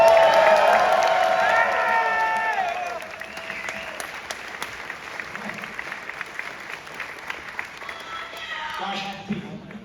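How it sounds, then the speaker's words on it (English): A festival crowd at a film Q&A breaks into loud applause with some cheering. After about three seconds it thins to scattered claps and a low murmur, and a voice speaks near the end. "So let's give him an applause."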